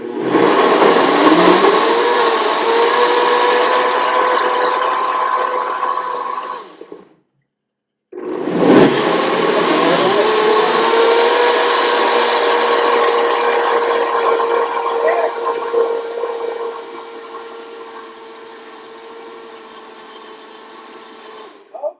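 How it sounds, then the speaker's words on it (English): A loud blender blending cheese sauce whirs steadily for several seconds, stops for a moment, then starts again and runs on, its pitch easing slightly as the sauce smooths out. "This is going to be noisy for a second. We are just going to blend this up."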